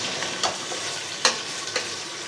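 Onions fry over high heat, heard as a soft, steady sizzle with a few light stirring clicks, fairly quiet and without talking.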